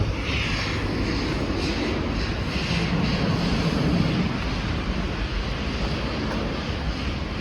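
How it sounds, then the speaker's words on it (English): Distant airplane taking off near the East Salt River shore in Phoenix, Arizona, a steady broad engine roar that holds at an even level throughout, with light wind noise on the microphone and no talking. "Oh, I see a plane taking off."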